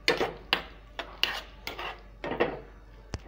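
A spoon clatters against a pan while Maggi noodles are stirred with lemon juice and coriander leaves, giving about eight sharp metallic scrapes and knocks in an uneven rhythm, close and fairly loud.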